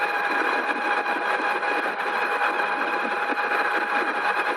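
An overvolted electric bike hub motor strains uphill with a continuous, even mechanical whine and hum, steady and close.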